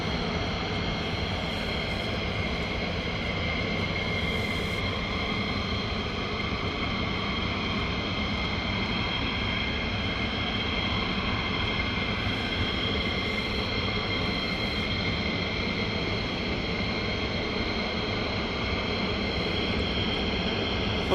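A tanker aircraft drones steadily overhead at night above RAF Lakenheath, a continuous loud engine roar that holds without breaks, with no voices.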